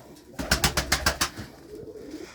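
A pigeon in a coop coos in a run of about seven deep, pulsing notes, close and fairly loud, then trails off into quieter background.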